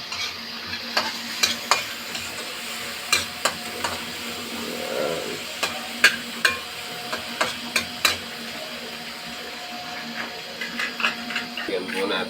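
Leftover galunggong fish frying in a pan while being stirred, a soft constant sizzle broken by a series of sharp scraping spatula strokes in irregular rhythm, close by.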